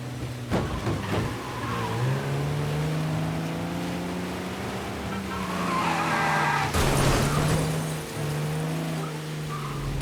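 A car in the video game Mafia Definitive Edition engine roars, revs up and down and shifts through gears during a chase, with tire skids and a sharp crash-like burst partway through.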